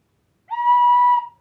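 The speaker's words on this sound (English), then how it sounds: "So this is the tin whistle" A tin whistle plays a single clear, steady note for just under a second, close and bright against silence, with no talking.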